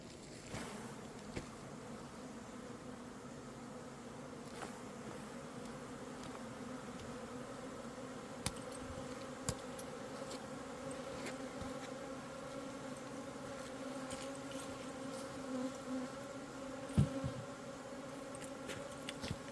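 A steady, dense buzz of many bees swarming around a hive outdoors, a continuous close droning hum with occasional louder passes of individual insects, no talking.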